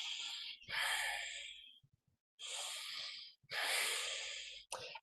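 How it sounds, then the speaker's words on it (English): A person takes slow, deep breaths up close. There are three long airy inhales or exhales separated by short pauses, then a brief sharp intake at the end. "Take some deep breaths"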